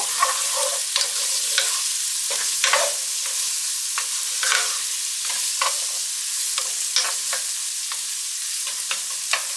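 Onions cook in oil in a pan with a continuous close sizzle, and repeated short stirring knocks and scrapes recur throughout, with no one speaking.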